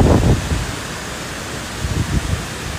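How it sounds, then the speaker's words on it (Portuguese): Strong wind blows around a house, a continuous broadband rushing roar with gusty rumbling buffets at the start and again later, heard alone without speech. "Olha o jeito que esse vento tá"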